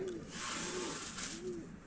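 Pigeons coo in a repeating low rolling rhythm, three soft coos in a row over a steady background hiss.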